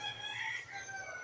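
A rooster crows in a drawn-out, wavering call, heard clearly against faint background noise.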